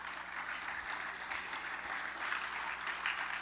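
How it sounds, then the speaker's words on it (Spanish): A church congregation applauds in a steady, dense wash of clapping that sounds a little distant and muffled, with faint voices underneath. "Dale un aplauso al Señor."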